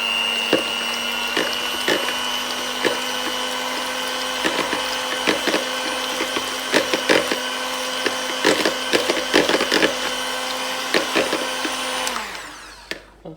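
Nigerian pancake batter is whisked slowly by hand, a rhythmic series of light clicks and taps against the bowl over a constant steady hum that cuts off near the end.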